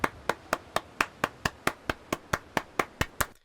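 Fourteen sharp hand claps in a steady, even rhythm, close and clear, then silence.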